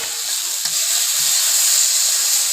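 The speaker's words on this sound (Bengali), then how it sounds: "আখের গুড়টা অ্যাড করে দেওয়ার পর আবার কিছুক্ষণ খুন্তি দিয়ে নাড়তে থাকব" Tomato chutney with cane jaggery is stirred with a spatula in a pan. A loud, constant hiss of sizzling runs throughout, with a few soft, low scraping strokes beneath it.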